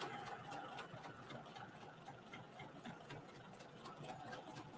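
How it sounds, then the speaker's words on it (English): A sewing machine runs a seam on a tote bag at a 5/8-inch seam allowance, a continuous close-up buzzing stitch with a faint rhythmic needle patter throughout and no talking. "It looks like I'm sewing with a 5/8-inch seam allowance."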